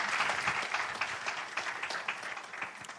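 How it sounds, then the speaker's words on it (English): An audience at a women and girls in science and ICT commemoration breaks into applause, a soft, slightly distant patter of many hands with individual claps poking through. "can we give a round of applause?"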